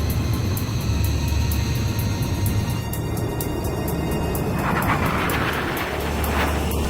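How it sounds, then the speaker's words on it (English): A transport plane making an emergency landing in Ace Combat 5, a steady droning aircraft engine roar with a rising whine and whoosh in the latter half, no voices. "The transport plane is ready for an emergency landing."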